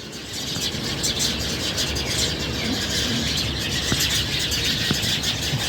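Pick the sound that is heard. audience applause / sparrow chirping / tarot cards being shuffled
sparrow chirping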